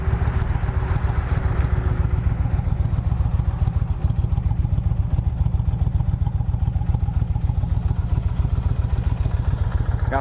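A 2008 Kawasaki Vulcan VN1600 cruiser motorcycle idles steadily up close, its big V-twin giving a deep, loping rhythmic thump with a loose mechanical clatter, running evenly and without pause.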